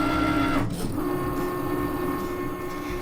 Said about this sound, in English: Now the machine's going to do what it calls a confirmation cut.